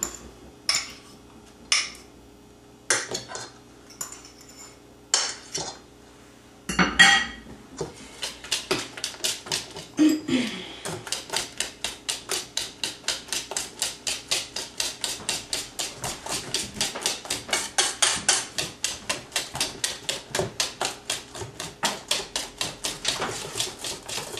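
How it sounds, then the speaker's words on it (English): Banana bread batter with mashed bananas and shortening mixed by hand in a bowl, heard as rapid rhythmic tapping and clacking of a utensil against the bowl. A few separate knocks come first, then the beating speeds up into a steady stream. "And you mix everything very, very, very well."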